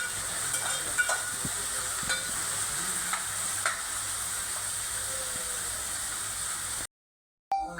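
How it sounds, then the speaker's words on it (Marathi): Chopped onion with curry leaves sizzling steadily in hot oil for a Konkani-style mutton curry, a close continuous frying hiss with occasional stirring clicks, cutting off abruptly near the end before a brief return. "आणि हे छानपैकी असं परतून घ्यायचं आहे. लाल करायचा आहे कांदा."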